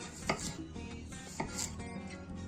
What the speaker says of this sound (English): we're just going to make wedges. See how the knife just goes straight through there.